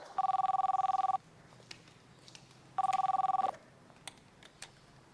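A telephone rings in two bursts of rapid electronic trilling, each about a second long with a pause between, fairly loud and close in a quiet room.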